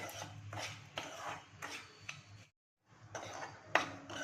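Fasting porridge grains (lapshi) are stirred continuously as they dry-roast in a pan, giving rhythmic close scraping strokes, a brief silent pause, then more scraping and a sharp clink near the end.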